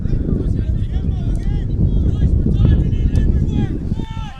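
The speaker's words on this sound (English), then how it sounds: "struggling again with that wind" Strong wind gusts buffet the microphone across an outdoor men's college soccer field, a loud steady low rumble running throughout beneath continuous commentary.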